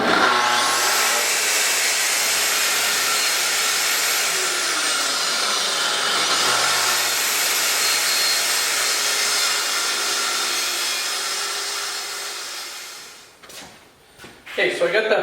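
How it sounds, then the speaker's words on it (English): A track saw cuts a wooden panel for a lathe station build: a loud, steady motor whine and blade roar run for about thirteen seconds, then wind down and stop, followed by a few faint clunks. "I'm going to do as much as I can with the track saw"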